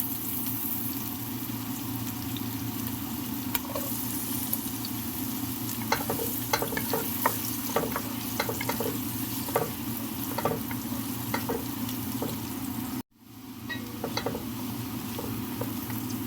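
Tuna fries in butter with green onion, a loud continuous sizzle with scattered pops and stirring scrapes, briefly cut by a short silent gap.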